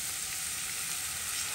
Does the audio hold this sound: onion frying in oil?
yes